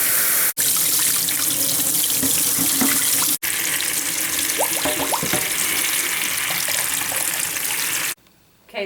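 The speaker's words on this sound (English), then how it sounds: "I'll run them through the water, through the sink" Tap water runs steadily into a sink as Honeywell air purifier parts are rinsed, the stream splashing and shifting as the pieces are moved under it, with two brief cutouts and an abrupt stop near the end.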